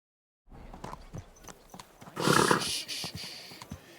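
A horse in the medieval Kingdom Come: Deliverance II video game stamps and clops its hooves, then lets out a loud snort or whinny midway, with more hoof thuds after, fairly close and with no talking.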